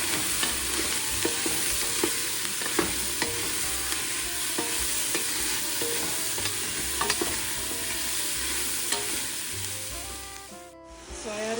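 Cabbage and carrots frying in olive oil in a pot, a steady close sizzle with repeated scraping stirs and clinks, easing off near the end.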